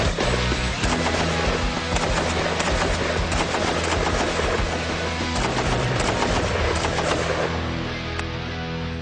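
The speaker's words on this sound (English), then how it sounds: "The Bren gun can be fired in the assault mode from the hip." Bren light machine gun fired from the hip in assault mode by Royal Marine Commandos at melon targets: dense, sustained loud automatic gunfire rattling continuously for the whole stretch, close by with no talk.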